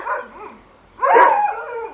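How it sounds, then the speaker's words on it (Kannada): Mudhol hunting dogs at a kennel beside a cow shelter bark in two close, loud bursts, with a brief lull between a yelping first outburst and a fuller chorus of barks. "ಇಲ್ಲಿ ಇಪ್ಪತ್ತಕ್ಕೂ ಅಧಿಕ ಮುದೋಳ್ ಬೇಟೆ ನಾಯಿಗಳಿರುವಂಥದ್ದು"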